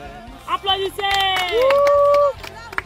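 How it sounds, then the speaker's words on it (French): A church congregation in Côte d'Ivoire claps after a baptism, with scattered claps under loud ululating, high-pitched cheering voices that swell and hold before fading. "Applaudissez."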